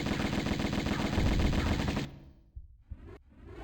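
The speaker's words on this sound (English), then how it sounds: "Just gonna empty all my bullets." A loud, rapid string of gunshots in a Tomb Raider game as a weapon is emptied, the rhythmic bursts hammering for about two seconds before cutting off into near silence with a couple of faint thumps after.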